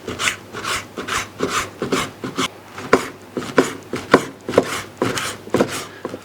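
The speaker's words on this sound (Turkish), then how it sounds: "Etimizi bu şekilde doğruyoruz" A knife chops meat on a board for Gaziantep-style Uzbek pilaf, with close, crisp strokes in a steady rhythm that comes in short bursts, and no voices.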